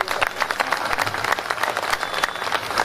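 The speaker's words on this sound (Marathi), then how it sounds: "जोरदार टाळ्या झाल्या पाहिजे" An audience at the Dhammapahat 2024 gathering breaks into loud, dense applause during an on-stage felicitation, many hands clapping steadily and close for the whole stretch.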